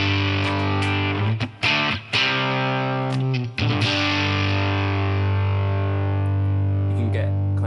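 A heavily distorted electric guitar chugs through a crunchy Mesa Boogie Mark IV amp model on a Line 6 Helix, with a few short gaps between sustained chords, loud and close.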